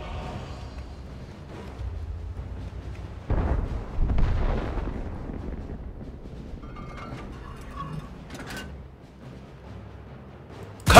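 Tank cannon fire in World of Tanks with a Soviet Object 705A heavy tank, a few deep booms over a low engine rumble, moderately loud, with a sharp burst at the end.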